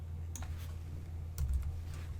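Keys on a computer keyboard are tapped in a few quiet, sparse clicks over a low steady hum, with no talking.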